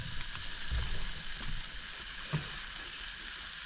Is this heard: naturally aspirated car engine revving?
no